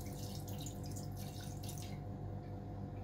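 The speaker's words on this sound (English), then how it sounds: "I'm just gonna pour port over the herbs" Port wine is poured over herbs in a pan for a reduction, giving a soft, continuous liquid trickle against a low hum, quieter toward the end.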